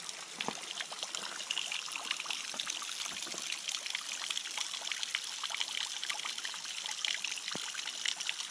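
Spring water trickles and splashes steadily as it pours straight out of a mountainside along a hiking trail, a close, continuous babbling flow with no one talking.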